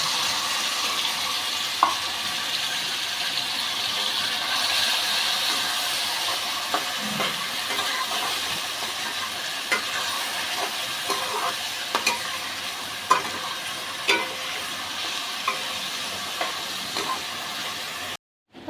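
Onion and tomato frying in hot mustard oil in a pan, a steady broadband sizzle running throughout with occasional soft stirring clicks and pops, close and fairly loud, no talking.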